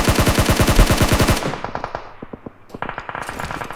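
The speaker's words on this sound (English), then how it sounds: "We've got 4 different squads here firing from all angles." Rapid automatic gunfire from multiple squads in a PUBG Mobile match, a loud dense burst of fast shots that breaks off into scattered, sharper single shots and short volleys from different distances.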